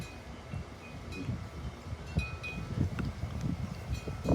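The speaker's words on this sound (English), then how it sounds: "it is incredibly windy" Strong gusts of outdoor wind buffet the microphone in a steady low rumble with louder surges, near and rough, with no voices.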